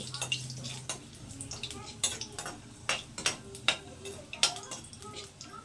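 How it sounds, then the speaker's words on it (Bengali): Panch phoron, the Bengali five-spice mix, crackles in a pan for a mung and masoor dal, with sharp utensil clicks and scrapes spiking irregularly over a low steady background. "পাঁচফোড়নটাকেও আমি সুন্দর করে একদম গন্ধ বেরোলো বেরোনো পর্যন্ত ভেজে নেব তিরিশ সেকেন্ড ধরে আমি এটাকে ভেজে নেব"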